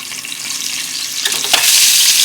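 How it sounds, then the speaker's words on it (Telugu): Boiled eggs fry in a pan of hot oil with a pinch of turmeric for an egg and drumstick curry: a steady, close, bright sizzle that swells with a brief stirring burst near the end, with no talking. "కడిగి బాయిల్ చేసి పెట్టుకున్న ఎగ్స్ కొంచెం ఇలా ఫ్రై చేసుకుంటే టేస్ట్ బాగుంటుంది."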